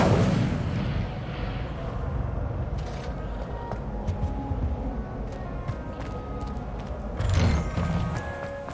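Incendio fire spells go off in a Harry Potter video game. A steady, heavy rumbling blaze runs throughout, with a strong burst at the start and another swell near the end.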